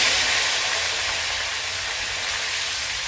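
Jujubes (kul) sizzle in hot oil tempered with five-spice over a medium gas flame while being stirred for a pickle; a steady, close, bright hiss runs unbroken throughout.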